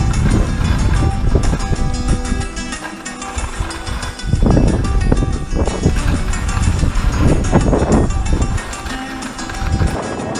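Strong, gusting wind on a steep snowkiting slope roars across the microphone in uneven surges, with rushing noise and occasional heavier blasts throughout.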